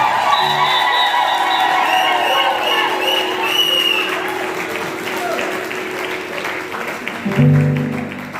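A crowd at a wedding blessing in Paris applauds and cheers for the bride and groom, with loud sustained clapping, whoops and shouts, voices mixing in near the end.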